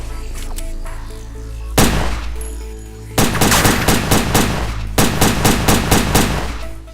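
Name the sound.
enemy gunfire in the video game Headhunter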